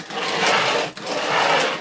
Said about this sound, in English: over the sound of the vacuum cleaner.